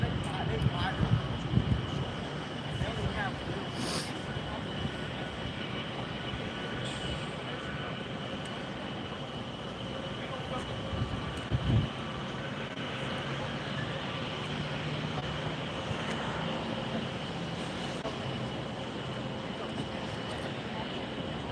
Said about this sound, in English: That was Delta Flight 759 that just came in from Atlanta, 757-200 series.